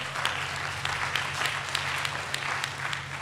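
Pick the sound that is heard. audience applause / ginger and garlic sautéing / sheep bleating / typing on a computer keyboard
audience applause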